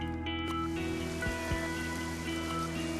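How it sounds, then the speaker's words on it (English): Heavy rain pours steadily over a coastal village of stilt houses above seawater, a dense continuous patter at even loudness throughout, with faint tonal hum in the background. "Today it is raining heavily."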